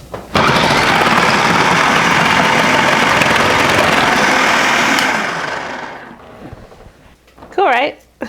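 A food processor slicing carrots whirs loudly and steadily for about six seconds, then spins down; a brief voice follows near the end.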